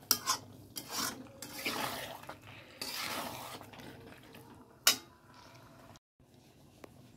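Chicken being stirred and sautéed in a pan for a curry, with scraping and rubbing of a utensil against the pan and a few sharp clinks, close and moderately loud.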